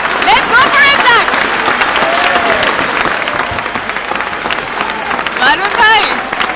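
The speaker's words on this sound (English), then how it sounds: "I want you all to cheer us up." Audience at an ICC Cricket World Cup 2023 celebration event, cheering and clapping steadily throughout with occasional whoops rising above the crowd.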